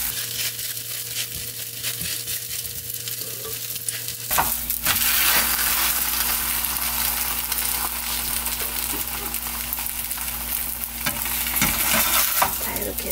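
A maesaengi seaweed pancake sizzles in an oiled pan, a steady close frying crackle with scraping and stirring noises, jumping louder partway through as it turns over and then hissing on.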